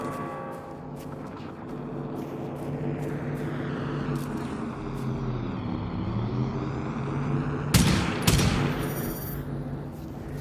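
In the game Generation Zero, a machine fires at a firebird: a droning mechanical hum runs throughout, with scattered short bursts of shots and a louder, denser volley near the end.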